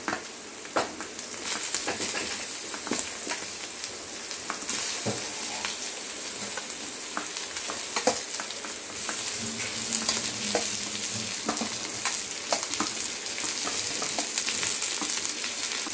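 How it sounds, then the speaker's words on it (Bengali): Chicken pieces fry with softened onions in a kadai, giving a continuous close sizzle and crackle with intermittent scraping and clinks as the pan is stirred, no talking. "এবার আমি চিকেনের পিসগুলো এর মধ্যে দিয়ে দেবো।"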